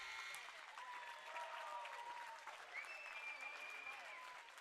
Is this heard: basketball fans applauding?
yes